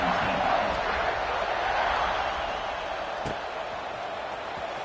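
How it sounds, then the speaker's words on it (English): A college football stadium crowd buzzes and murmurs in a broad, steady wash of noise after a score, heard behind a play-by-play commentator. "this crowd is buzzing after that last score"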